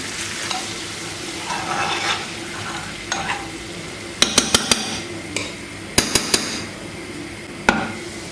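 Red chili powder and mint sizzle in melted butter in a pan for lentil soup, a steady soft hiss broken by sharp clinks and scraping stirs of a utensil against the pan.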